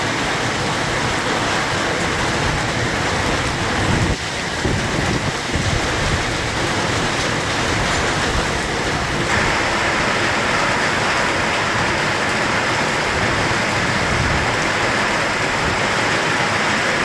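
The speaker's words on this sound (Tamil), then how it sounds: "திருவண்ணாமலை மாவட்டம் செங்கம் மற்றும் திருப்பூர் மாவட்டம் காங்கேயத்தில் பரவலாக மழை." Widespread heavy rain falls in Chengam and Kangeyam, Tamil Nadu, as a dense, continuous roar of rain on surfaces with occasional low rumbles, steady and close throughout.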